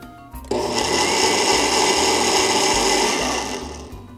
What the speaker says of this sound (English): A mixtec blender? Will it mix? I think I'll push the mix button.